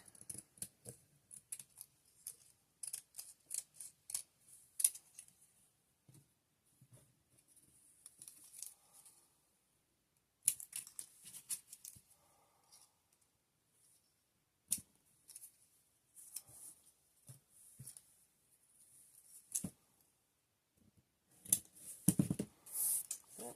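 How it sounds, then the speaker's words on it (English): Paper cut in half with scissors, crisp snips and slicing strokes in irregular bursts with quiet pauses, close and moderately loud, with light paper handling between cuts. "Cut it in half."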